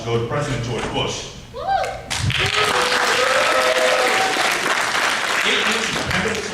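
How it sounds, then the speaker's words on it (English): A school talent show audience breaks into loud applause for a stand-up comedian, dense clapping and cheering that swells after a brief spoken moment and a thump, then holds strong to the end. "I think the real applaud should go to President George Bush."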